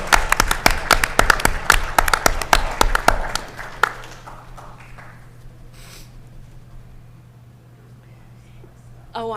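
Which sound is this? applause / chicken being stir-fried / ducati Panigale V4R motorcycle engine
applause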